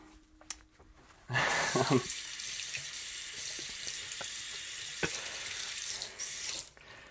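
A bathroom tap runs water close by to wet a tongue brush, starting abruptly with a splashy burst, then holding as a steady hiss before shutting off near the end.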